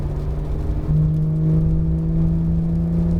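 A Porsche 911 GT3 accelerates on the Dominion Raceway track in Richmond, Virginia, its engine a steady loud drone that climbs in pitch and holds firm, heard from inside the car with no talk.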